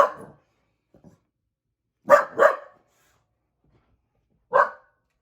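A dog barks in three short bursts: one near the start, a quick double bark around the middle, and a single bark near the end, with silence between.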